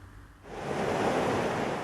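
Rough sea waves surge onto Pattinampakkam beach in Chennai, a loud, broad roaring wash that swells after a brief lull and keeps rushing, with wind noise mixed in.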